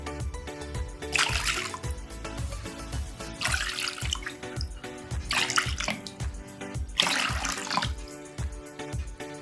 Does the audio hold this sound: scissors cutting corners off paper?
no